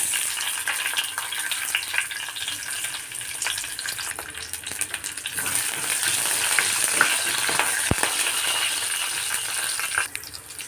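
Cumin seeds and green chillies fry in hot oil for an eggplant and yogurt curry, giving a steady, close crackling sizzle with one sharp click partway through. No one speaks.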